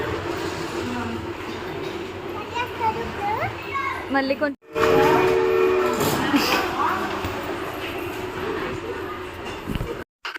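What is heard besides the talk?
toy train delivering food to table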